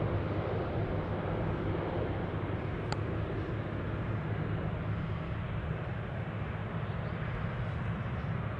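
An airliner taking off from Anchorage airport, flying low along the runway, produces a steady, broad jet roar with deep rumble that holds unbroken throughout, with no voices over it.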